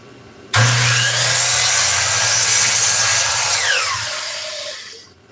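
A power sander grinds an oak pen blank, starting abruptly with a loud steady whir and abrasive rasp, then winding down near the end.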